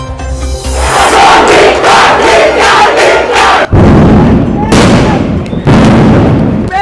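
Loud sharp bangs from sound grenades fired at protesting students at Shahjalal University, several blasts breaking through a shouting, roaring crowd close by.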